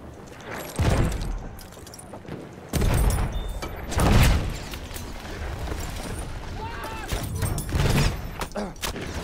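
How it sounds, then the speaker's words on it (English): Explosions in a Battlefield video game, several heavy booms bursting loudly one after another amid dense battle noise, with a few quieter thuds and rumbles between them. "there's a lot of explosions happening here."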